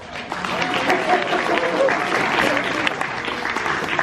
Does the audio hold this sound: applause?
yes